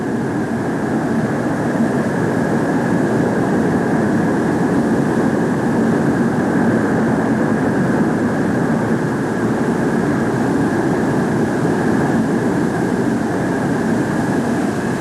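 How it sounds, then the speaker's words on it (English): A Convair F-102 jet taxiing back after its first day of flight testing at Edwards Air Force Base, a loud, steady, continuous engine roar with a high whine, sustained and unchanging with no speech. "As the F-102 taxis back to the waiting crew, winding up its first day of flight testing"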